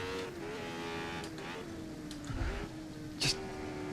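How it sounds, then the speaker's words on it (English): A Formula 1 race car on a Goodwood lap holds a steady high-pitched engine whine with upshift changes and brief bursts of noise, heard from inside the car. "And shifting up. We're going to cook that engine."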